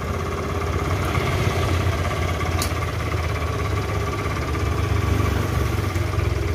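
A Honda Vario 110 scooter engine idles steadily on battery power alone, a close, even, continuous rumble with no talk.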